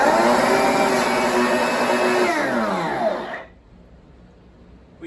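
A Hoover Smart Wash carpet washer with a faulty motor runs with a loud, whining roar and steady droning tones, then winds down abruptly and cuts to near quiet.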